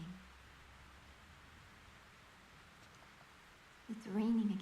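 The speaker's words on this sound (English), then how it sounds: "It's raining again." Rain falls in the horror video game Fatal Frame 3 as a steady, soft hiss throughout, and a voice speaks briefly near the end.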